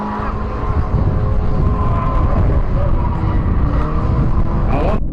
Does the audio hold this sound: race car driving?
yes